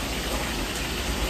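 Rain falls steadily during a thunderstorm on the last day of a vacation, a dense even hiss with no other sounds.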